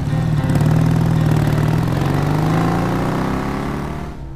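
A motorcycle engine in the LEGO Batman video game starts and runs loud and close, a rough throbbing note that rises slightly, then fades away at the end.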